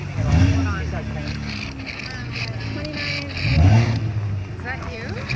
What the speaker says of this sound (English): This car is so annoying.